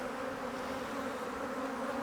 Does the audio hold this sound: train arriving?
no